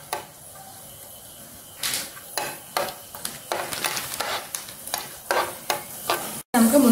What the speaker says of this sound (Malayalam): എണ്ണ ചൂടായിട്ടുണ്ട്, അതിലോട്ട് നമുക്ക് അണ്ടിപ്പരിപ്പ് വറുത്തിട്ട് കൊടുക്കാം.